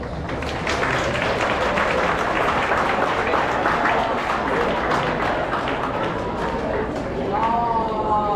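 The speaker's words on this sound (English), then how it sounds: "Give our Falcons Dance Club a round of applause" At an awards celebration, an audience claps for the Falcons Dance Club, a loud, dense patter of many hands that holds steady throughout, with voices mixed in and a brief tonal sound near the end.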